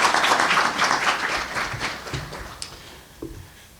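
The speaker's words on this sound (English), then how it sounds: "Let's give them all a round of applause." An audience at a Constitution and Citizenship Day celebration claps, starting as loud, full applause that gradually thins and fades, ending with a few scattered claps.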